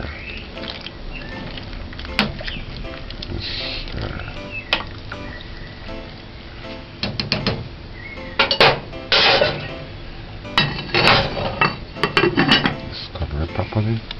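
A spoon stirs Jamaican red peas soup with pumpkin in a pot, clanking and scraping against the sides in irregular bursts that grow busier toward the end, close and fairly loud.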